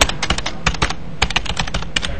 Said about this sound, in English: It's amazing what a few strokes of the keyboard can do.